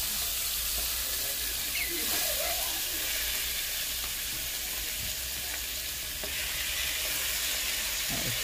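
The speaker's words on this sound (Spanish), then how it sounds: "Lo vamos a freír. Vas a freírlo ya." Chicken wings and gizzards fry in a pan with a constant loud sizzle, crackling and hissing close by, with faint scraping of stirring now and then.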